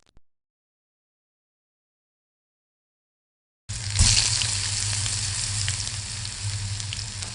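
Food frying in a pan in the Who Stole Hanukkah video game starts suddenly after silence as a steady, close sizzle with crackling, continuing evenly to the end without speech.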